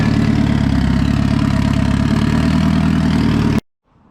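Honda EK hatchback engine idling at 1,000 RPM with a tuned setup: a loud, close, steady low-pitched burble with an even pulsing rhythm that cuts off abruptly near the end, leaving brief quiet.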